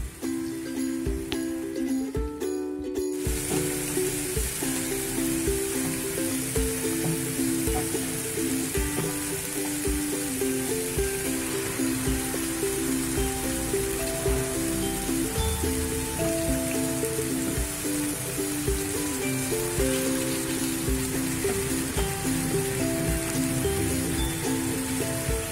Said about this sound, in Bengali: চিকেনটা এবার আমরা নেড়ে চেড়ে মিশিয়ে 5 মিনিট ফ্রাই করে নিচ্ছি